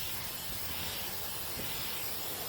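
A spray paint can sprays a coat onto a light fixture, a steady, close, breathy hiss lasting the whole short stretch with no voices.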